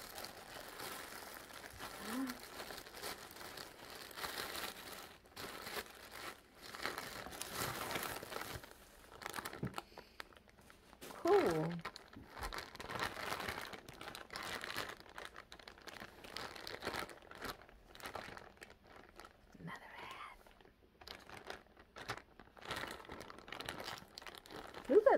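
Crinkly plastic wrapping of a delayed Christmas present rustles and crunches in repeated bursts as it is handled and torn open, close by, with a few brief quiet gaps.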